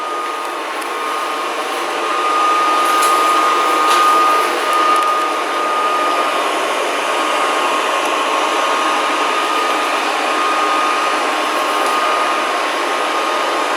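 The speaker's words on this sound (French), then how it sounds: "je vais relancer l'aspirateur" A steady mechanical whir of a Proscenic 790T Coco Smart robot vacuum running continuously, with a faint high-pitched whine on top and no voices.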